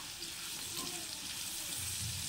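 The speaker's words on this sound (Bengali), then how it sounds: "আলু ভালো করে নাড়তে থাকবো।" Potatoes frying in a pan while being stirred, a soft, steady low sizzle with faint scraping, quiet and continuous without voices.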